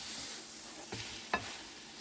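Slices of French raisin bread toast frying in butter in a pan, a low steady sizzle with two brief scrapes or taps of a spatula, fairly quiet and close.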